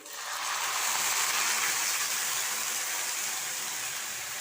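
Water is poured into a cooking pan holding lemon and other ingredients, making a steady, loud rushing hiss that swells quickly and runs on for several seconds without any talk.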